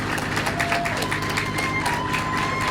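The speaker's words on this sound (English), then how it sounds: "please join us in giving your children a round of applause" An audience claps and cheers for children at a school moving-up ceremony, a dense, steady wash of applause with scattered voices.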